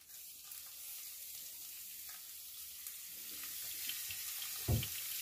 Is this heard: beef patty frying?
yes